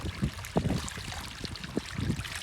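Water from a natural spring trickles and splashes outdoors, close by but fairly quiet, with soft uneven gurgles and small bubbling pops throughout.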